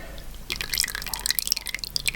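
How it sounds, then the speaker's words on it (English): Melted butter poured onto finely ground, powdery oats for cookies, giving a soft run of wet drips and light splatter lasting about two seconds, close and fairly quiet, with no talk. "let's pour our melted butter"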